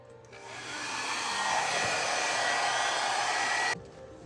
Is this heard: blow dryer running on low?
yes